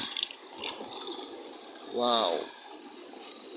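An object is rinsed and swished in water, giving a steady wet splashing hiss throughout, while a voice exclaims once partway through.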